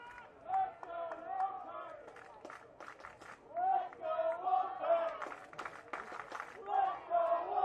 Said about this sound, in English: Quiet crowd trying to get its team revved up.